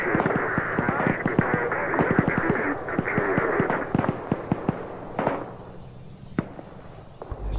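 Explosions and gunfire in an Arma 3 battle: a dense run of sharp, close bangs and cracks over a steady low rumble, thinning out toward the end with a few isolated blasts.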